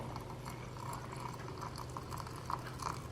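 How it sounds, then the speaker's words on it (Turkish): Water is poured over linden tea leaves, a faint steady liquid trickle and bubbling with a low hum underneath, close but quiet and without speech. "Şimdi üzerine suyunu ekliyorum."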